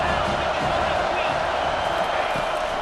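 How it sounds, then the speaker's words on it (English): A packed college football stadium crowd at an LSU versus Penn State game roars loudly and continuously, a dense wall of cheering that holds steady throughout. "Crowd is tearing the lid off this place."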